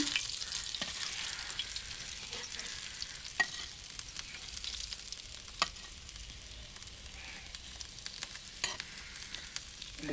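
Fish fries in hot oil, a steady bright sizzle running throughout with a few sharp crackles and pops, close and continuous, no voices.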